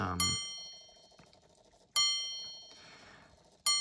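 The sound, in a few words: antique alarm clock ringing its chime alarm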